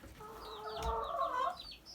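Young chickens clucking and peeping inside a coop used as a dust bath, a steady cluster of soft overlapping calls close by, rising slightly mid-way, with no talking.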